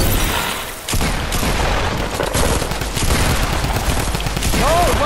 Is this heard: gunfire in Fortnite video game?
yes